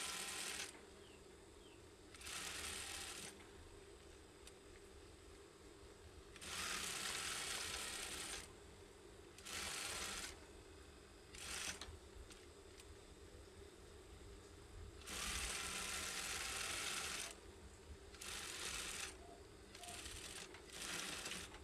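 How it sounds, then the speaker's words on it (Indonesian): A sewing machine stitches elastic into the waistband of a pair of shorts, running in repeated bursts of steady mechanical whirring a few seconds long, separated by quieter pauses. "Tapi di sini saya akan jahit satu aja di bagian tengah."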